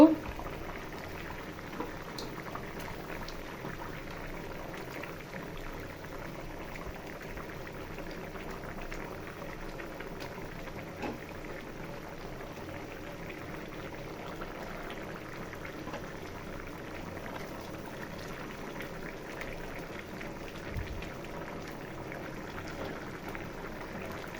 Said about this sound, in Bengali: এই যে ঝোলটা বল করে এসে পড়ছে